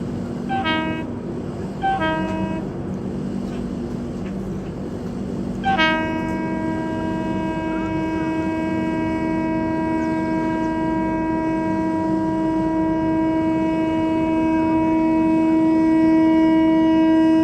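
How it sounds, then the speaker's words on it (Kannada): A train horn blares from a train passing at a crossing, heard from aboard a superfast express. Two short blasts are followed by one long sustained chord over a steady rumble of rolling wheels. "ಯಾವ ಟ್ರೈನ್ ಕ್ರಾಸಿಂಗ್ ಈಗ ಬರುತ್ತೆ ಅಂತೇಳಿ ನೋಡೋಣ್ರಿ"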